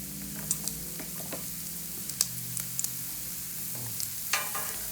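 Mushrooms sauteing in bacon grease on a Pit Boss pellet grill give a steady low sizzle, with occasional soft clicks and scrapes close by and no one talking.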